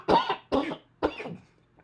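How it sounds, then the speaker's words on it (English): Three harsh coughs from a person in a web development session, evenly spaced about half a second apart and close to the microphone, ending with a faint throat sound, no speech. "I'm going to be muting periodically until this cough subsides"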